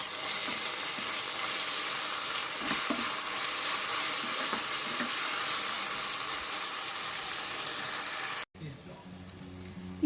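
Ginger garlic paste sizzles with golden fried onions in oil for chicken biryani in a pressure cooker, a steady close frying hiss with occasional stirring, cut off abruptly near the end.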